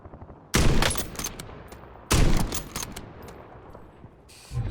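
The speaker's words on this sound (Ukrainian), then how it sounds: "Я як стріляю, то мені здається, півміста чує мене." Heavy gunfire from a Call of Duty: Warzone match comes in two loud, sustained bursts of rapid shots, each trailing off into echoing decay, with a third burst starting right at the end.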